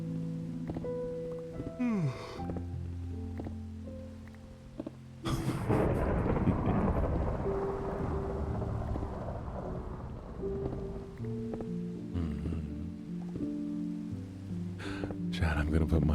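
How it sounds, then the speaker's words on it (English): Thunderstorm rain from the Minecraft game plays as a steady, soft hiss with low rolling rumbles. It starts after a quieter stretch that carries music, and a voice talks over it at times. "Vanya, I got your storm"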